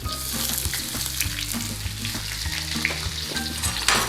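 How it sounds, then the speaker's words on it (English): Onions, tomatoes and peppers stir fry in a hot pan with a steady loud sizzle, punctuated by scraping stirs and clinks, close by and with no talking. "Now what we're going to do is quickly stir fry our onions and our tomatoes and peppers."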